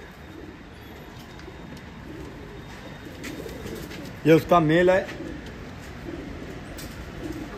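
Highflyer pigeons give a short cluster of soft cooing calls, close and brief, against faint background noise while someone speaks in Hindi.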